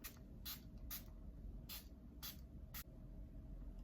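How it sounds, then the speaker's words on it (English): An Essence Fix and Last 18-hour fixing spray atomizer pumped six times in short, soft hissing bursts spaced about half a second apart, faint and close over quiet room tone. "The last thing I've got is this Fix and Last 18-hour fixing spray."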